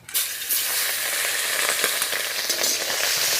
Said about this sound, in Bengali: এবার চিংড়ি মাছটা ভালো করে ভেজে নিচ্ছি।